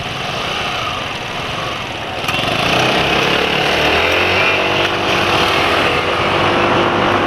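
A car engine runs with a rough, uneven mechanical note. It grows louder and harsher about a third of the way in, then holds a steady, gritty drone to the end.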